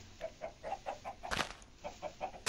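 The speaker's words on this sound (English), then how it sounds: "Should I breed these chickens again?" Chickens in the Minecraft video game cluck softly in a steady, repeated rhythm, with one brief louder squawk midway; faint and alone, with no talk.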